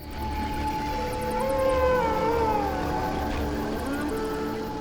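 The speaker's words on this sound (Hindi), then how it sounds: "यहाँ बहुत सारे भेड़िया हैं।" Several wolves howl together in a forest at night, long wavering tones rising and falling over a steady low rumble of an idling vehicle, all fairly loud and continuous.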